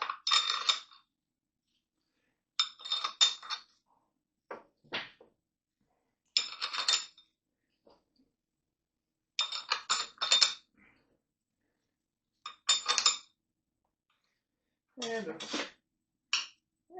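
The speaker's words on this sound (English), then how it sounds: "And just start putting on washers and nuts." Metal washers and nuts clink in short bursts as they are handled during a Kawasaki Ninja H2 chain and sprocket replacement, sounding close and crisp with quiet gaps between the clusters.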